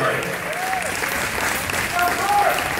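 Steady applause from an audience at a men's bodybuilding competition, a dense continuous roar of clapping with crowd noise and a few faint whistles, loud and sustained throughout.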